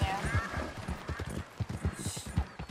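A robust mare's hooves clip-clop at a steady trot in the video game Red Dead Redemption II, rhythmic and close, with game ambience and some talk in the background.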